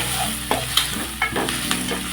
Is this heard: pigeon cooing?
no